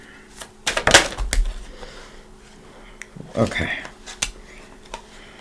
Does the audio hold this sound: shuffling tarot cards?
yes